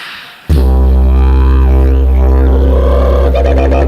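A didgeridoo imitates the cackling call of a laughing kookaburra, an Australian bird: a loud, steady drone starts abruptly and carries wavering, rising vocal whoops and chattering overtones above it for several seconds.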